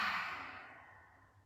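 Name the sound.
yoga lion's breath exhale with tongue out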